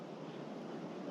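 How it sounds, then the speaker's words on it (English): Steady, broadband rushing of a river at a wild camp in the North Pennines, continuous and even, with no voices and no distinct events. "all I can hear is the sound of the river"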